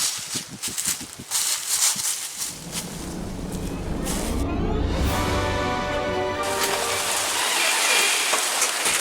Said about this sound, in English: It's pouring rain. I mean, just pouring.